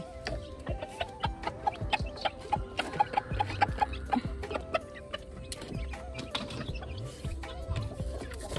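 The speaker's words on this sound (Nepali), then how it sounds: "भाले फुत्केला छ" A rooster clucks and calls in a village yard in the Nepal hills, repeated short sounds at a moderate distance over a busy background of clicking and ticking, with no talk.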